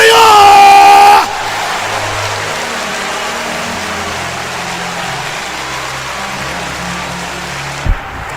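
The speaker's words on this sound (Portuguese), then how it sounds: "Aplauda o Senhor." A church congregation breaks into loud, sustained applause and cheering after a brief raised voice at the start, the dense clapping filling the room for several seconds.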